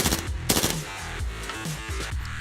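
A KWA MP7 airsoft gun firing in quick automatic bursts, with crisp mechanical clatter from close range and no talking over it.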